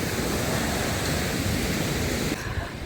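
Sea waves breaking on the shore at Odesa, a steady broad wash of surf that stays close and loud before easing off near the end.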